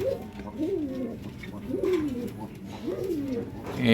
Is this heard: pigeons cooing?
yes